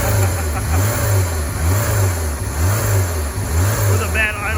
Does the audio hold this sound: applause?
no